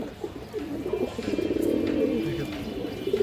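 Silver pigeons coo, a male giving its low throaty cooing call in rolling bursts, close and fairly soft with light background noise.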